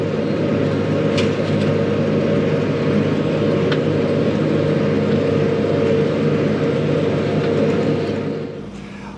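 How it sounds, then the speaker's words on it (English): Steady loud mechanical drone of a Massey Ferguson inline baler with a Bale Barron bundalizer turning a hay bale on its turntable, a continuous low rumble with faint clanks that eases off near the end. "there's the bale going around the turntable"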